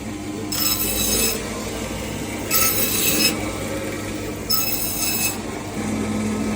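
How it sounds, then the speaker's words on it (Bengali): At a sea-fish market in Chandpur, a fish-cutting machine slices through fish in three separate bursts about two seconds apart. Each cut makes a harsh, loud rasping screech over a steady motor drone, heard close by. "এভাবে কাটার মেশিন"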